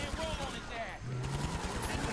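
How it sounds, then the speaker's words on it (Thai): Rapid bursts of automatic gunfire from the video game GTA V rattle continuously under a voice talking over the action. "เปลี่ยนปืนก่อนนะครับนี่ปืนเนี้ยสุดยอดยิง"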